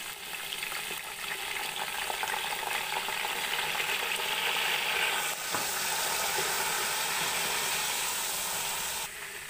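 Garlic paste frying with golden-browned onions in a pan for mutton yakhni pulao, a steady dense hiss and sizzle that stays loud and close throughout, with a brief clatter midway and no voices.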